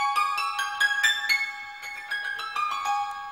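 A Persian santur is struck with hammers in an unusual playing position, producing a quick stream of bright, metallic, ringing notes with a shimmering sustain and no voice.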